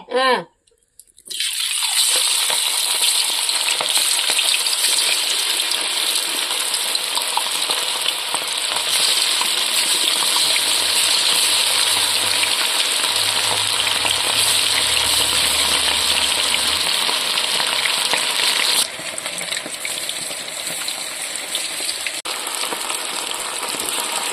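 Chilli chicken frying in hot oil, a loud steady sizzle and bubbling that runs almost continuously, dropping slightly in level near the end, with faint low voices in the background.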